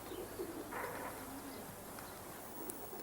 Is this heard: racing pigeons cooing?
yes